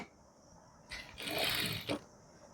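A sewing machine stitches foam pillow piping in one short, quiet, whirring burst of about a second with a clunk at the end.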